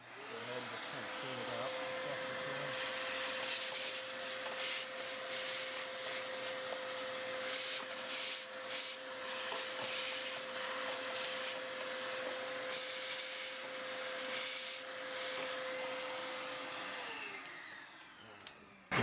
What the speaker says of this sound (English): we'll just run the vacuum cleaner through